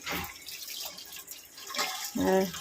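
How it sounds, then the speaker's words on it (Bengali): Rice being washed in water by hand in a home kitchen: soft splashing and trickling of liquid, with brief louder swishes near the end, fairly close and alone. "তো চলো চালটা ধুয়ে নিই"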